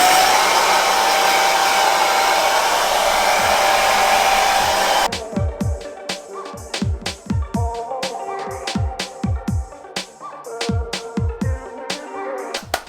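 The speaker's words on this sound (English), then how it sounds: "So we've just got a normal hairdryer here." A hair dryer blows with a steady loud whoosh for about five seconds, then gives way to a string of quick knocking and tapping sounds.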